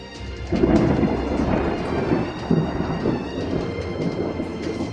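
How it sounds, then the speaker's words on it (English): Thunder rolls outside in one long, deep rumble that swells early and keeps grumbling for several seconds, picked up by a microphone indoors with no talking. "I think my microphone is picking up the large amount of thunder noises outside."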